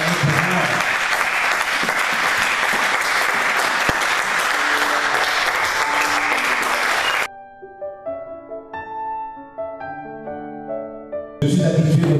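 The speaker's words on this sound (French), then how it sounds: "est-ce qu'on peut acclamer pour Dieu parce que là, nous allons acclamer pour moi" A church congregation bursts into loud, sustained applause and cheering for God, a dense roar of clapping that cuts off abruptly into soft instrumental music before the clapping swells back at the end.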